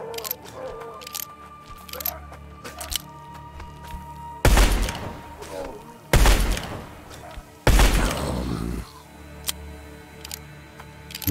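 Gameplay from Blood West: an enemy spits acid in three loud, broad bursts, each a wet splashing blast lasting about a second, separated by quieter stretches with faint ticking and background game ambience.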